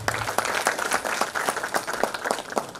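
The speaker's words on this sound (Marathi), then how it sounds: "एकदा जोरदार टाळ्या होऊ द्या." Applause at a university retirement ceremony, a steady burst of many hands clapping together from a seated crowd, loud and sustained for a few seconds without talk.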